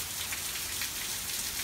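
Thunderstorm rain in east central Indiana falls steadily as a dense, even hiss of drops on surfaces, moderately loud and continuous, with no thunder or voices.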